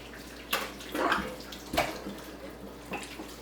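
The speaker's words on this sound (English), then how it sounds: "And then you wash the turkey out." Running water splashes inside a raw turkey as it is rinsed out before deep frying, in several uneven gushing bursts heard close up with no talking.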